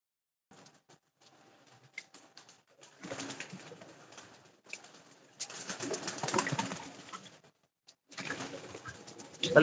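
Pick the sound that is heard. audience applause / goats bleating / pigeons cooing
pigeons cooing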